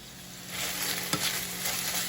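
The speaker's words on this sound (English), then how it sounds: "Okay, now we're cooking with grease. Now it's starting to brown." Meat with onions and garlic frying in grease makes a broad, steady hiss of sizzling, with one sharp knock of a utensil partway through.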